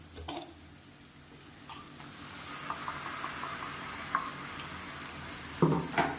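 Quiet, steady sizzling of tomato and roasted gram paste sautéing in oil for tomato sambar, with occasional light clinks of a spoon against the pan.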